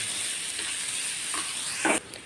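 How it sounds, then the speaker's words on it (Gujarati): Onions sautéing in a pan for onion kachori, a steady close sizzle and crackle of frying with a few soft stirring scrapes, ending in a brief louder clatter before the frying fades. "ડુંગળી આપણે સરસ રીતે સતળાવા લાગી છે"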